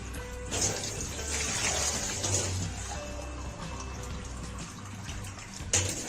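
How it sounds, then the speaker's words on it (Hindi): Water pours into a cooking pot holding about two kilograms of beef for pulao stock, a steady, close splashing fill with a sharper burst near the end. "मैं इसमें 3 लीटर पानी डालूंगी"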